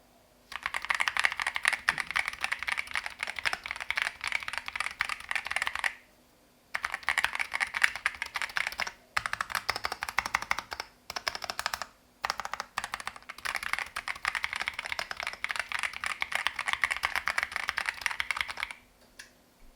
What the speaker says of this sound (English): Now here's the sound test for the Epomaker TH40.